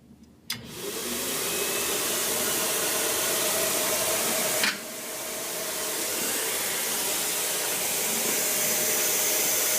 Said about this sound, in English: I'm gonna start the slider by turning on the vacuum.